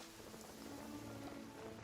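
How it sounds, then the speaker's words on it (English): Steady rain falls in the video game Genshin Impact, a soft, even hiss of drops on surfaces with no voices over it. "Where'd this rain come from?"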